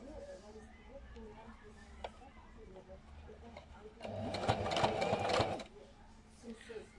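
A sewing machine runs in a loud burst for about a second and a half, stitching strips of old T-shirts into a homemade rug, with quieter handling and faint talk around it.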